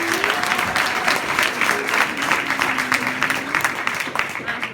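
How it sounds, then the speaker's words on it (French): Audience applause fills a piano anniversary concert hall, a dense steady patter of many hands clapping at moderate loudness throughout, with faint tonal traces of voices beneath. "On peut les applaudir."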